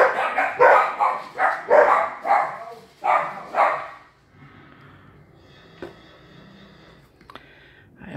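Dogs barking indoors, a run of about eight loud close barks in quick succession, then quieter rustling and small knocks after they stop.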